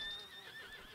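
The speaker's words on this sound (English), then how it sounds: "These are prized horses I'm talking about." Horses in a Wild West video game give a brief high whinny over faint hoof clopping, quiet and short.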